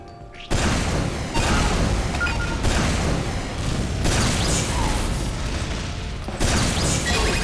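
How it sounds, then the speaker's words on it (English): Rockets fired in rapid succession in Team Fortress 2 during Soldier training, a loud run of booming launches and blasts, each burst separated by brief gaps, with no talking. "I shoot as soon as the next message appears for an easy pre-fire, a few easy rockets for quick damage."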